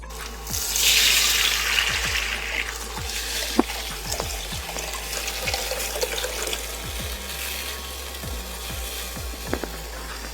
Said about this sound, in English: Pour in the tamarind mixture.